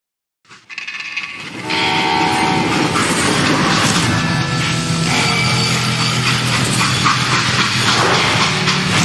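A freight train in the Western shooter game Call of Juarez: Gunslinger rumbles and hisses steadily after a brief start, a loud, continuous rolling roar with metallic rattling that carries on without pause.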